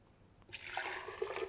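Water poured from a container into a blender jar for a guava and banana sauce, a steady splashing stream that starts abruptly midway and runs on close and fairly soft, with no talking.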